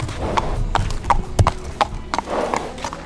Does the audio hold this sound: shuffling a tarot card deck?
no